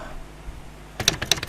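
Typing on a computer keyboard while entering Python code for an Excel data tool: a quiet lead-in, then a short close burst of several crisp clicking keystrokes, heard alone.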